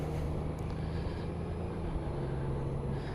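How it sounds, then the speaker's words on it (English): A 2018 Honda Goldwing Tour motorcycle engine idles with a low, steady rumble, continuous and fairly quiet, with no voices over it. "Love the sound of that engine."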